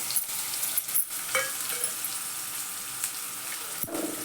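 Finely chopped onion sizzles steadily in a hot pan, a constant frying hiss with a few brief stirring clicks and scrapes, close and moderately loud, no voices.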